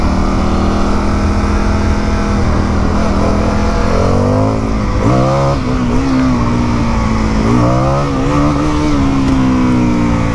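An Indian motorcycle engine revs and accelerates while being ridden, its loud, close exhaust note rising and falling through several sweeping pitch climbs over constant wind rush.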